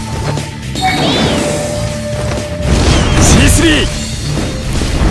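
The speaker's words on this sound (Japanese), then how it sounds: "大爆発だぜ。" A big explosion in the Naruto Online video game crashes out loud over continuous battle effects and music, with a heavy burst partway through and a voice speaking under the din.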